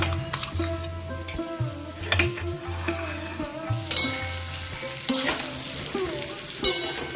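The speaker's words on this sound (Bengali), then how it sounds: "কুমড়ো ভাজা ভাজা হয়ে গেছে" Pumpkin pieces frying in a pan for a vegetarian chana dal dish, a soft continuous sizzle broken by repeated scrapes and clinks of a spatula stirring, with no talking.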